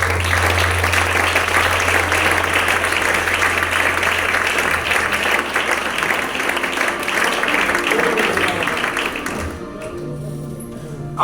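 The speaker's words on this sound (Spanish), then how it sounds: "Recibimos la palabra con un fuerte aplauso" A church congregation gives strong applause after a Bible reading from Revelation, loud dense clapping sustained for about nine seconds with a low hum underneath, then fading out abruptly near the end.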